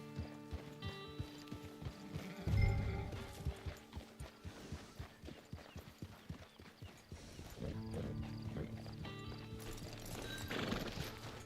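A horse in the Red Dead game clip-clops along in steady hoofbeats, with a loud whinny near the start and more neighing and snorting later, heard mostly alone over faint background sounds.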